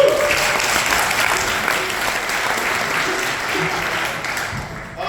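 Steady, full applause from a bluegrass and swing concert crowd at ETSU greets a baritone singer, holding at an even level for about five seconds before easing off.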